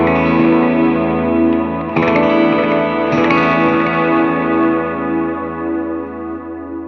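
Electric guitar played through a drive pedal, close and loud, with a punchy, present overdriven tone; sustained chords with a couple of fresh strums partway through, ringing out alone without talk.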